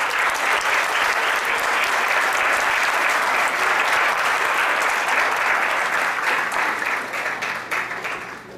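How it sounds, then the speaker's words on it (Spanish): Loud, sustained applause from a conference audience greeting a distinguished speaker at a Mexican electoral council lecture, a thick even roar of clapping that holds strong for several seconds and then begins to thin out near the end. "Fuerte el aplauso para nuestro distinguido ponente."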